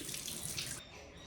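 Tap water running into a sink to wet the skin before a face pack, a close and steady gushing stream that is cut off partway through.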